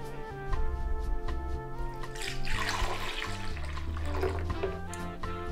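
Peach juice pours steadily into a blender for several seconds, a continuous splashing flow, with music playing underneath.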